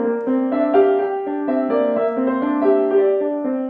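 Piano playing a Debussy passage with its second beat repeated, a soft, sustained sequence of overlapping chords and melody notes in a gentle, regular rhythm, heard alone.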